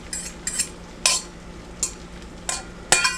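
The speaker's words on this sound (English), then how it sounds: "give these eggs a quick stir" Scrambled eggs being stirred in a pan, heard as a handful of short scraping strokes spaced about half a second apart over a low steady hum, close by with no talking.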